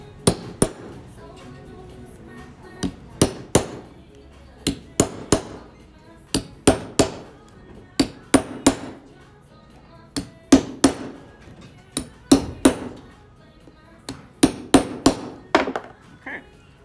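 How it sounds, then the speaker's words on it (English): Hammer blows securing part of a small leather Coach Dinky bag being customized, struck in irregular bursts of two to four sharp close raps with short pauses between, loud and clear over a quiet room. "So just gonna do some hammering."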